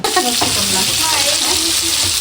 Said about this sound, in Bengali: ইফতারি ভাজা শেষ